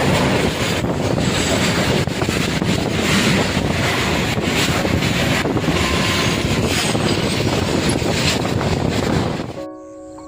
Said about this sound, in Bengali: ফাইনালি বন্ধু দেখো আমাদের রেল লাইনে ট্রেন চলে যাচ্ছে